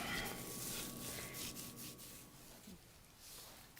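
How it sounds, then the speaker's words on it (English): Rolling pin pressing and rolling out cinnamon ornament dough on a work surface, a steady close rubbing and scraping sound that fades slightly toward the end. "And then I'm going to roll it out to about 3/8"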